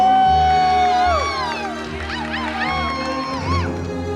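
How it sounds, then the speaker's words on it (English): A crowd at a Blue Collar Tour stop for a welding academy in Charlotte cheers loudly, with rising whoops and shouts over a dense roar of voices. "So let's give them another round of applause!"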